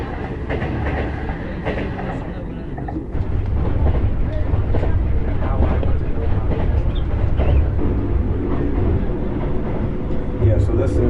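A Chinese-built SGR passenger train runs through Kenya, heard from inside with a steady loud rumble and rhythmic clatter of the wagons, growing heavier partway through, while people talk over it.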